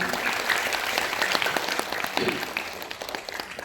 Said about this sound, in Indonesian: Mari tepuk tangan buat Pak dosen.